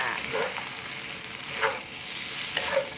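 Rice stir-fried with canned fish in a pan gives a steady close sizzle, with scraping stirs of the spatula breaking through now and then and no talk.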